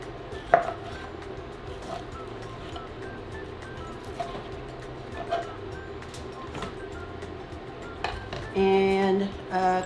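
Knife chopping peeled oranges on a cutting board, scattered sharp taps spread across a quiet kitchen background, followed near the end by a louder, sustained clatter.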